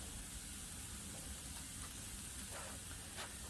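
Food frying on a Blackstone griddle in bacon grease, a steady quiet hiss and crackle with a few small pops, heard alone without talking.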